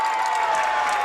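St. Patrick fans cheer and applaud right after a dunk at a high school varsity boys basketball game, a steady, dense crowd roar filling a gym for about a second.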